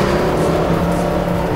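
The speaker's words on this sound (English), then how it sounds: "That high horsepower V8 engine." Mercedes SLS AMG with a high-horsepower V8 accelerating hard on a racetrack, a loud, steady close engine roar holding its pitch throughout with no talk over it.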